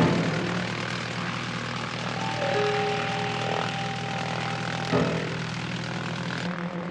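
Light propeller aircraft taxiing for takeoff, its engine giving a steady, close, droning hum throughout with a faint tonal whine and a brief bump near the end, no speech.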